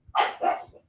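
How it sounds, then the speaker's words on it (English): A dog barks twice in quick succession, close and fairly loud, with a short yip afterward and no talk over it. "I can't believe she's barking at your voice."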